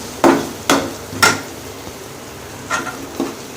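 Chicken soup ingredients are stirred in a pot with a utensil, giving five short scraping clatters: three in quick succession, then a pause, then two softer ones, close by with no talk.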